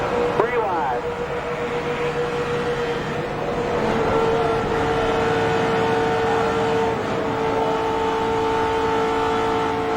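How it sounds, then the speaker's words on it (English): Loud in-car engine roar aboard a NASCAR stock car driven by Dale Earnhardt Jr., holding a steady high drone with a slight pitch shift partway through; no distinct impact stands out. "Let's listen to Junior's onboard, see if that helps determine what happened here."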